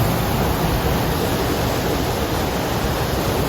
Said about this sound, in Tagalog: Napakaganda ng falls.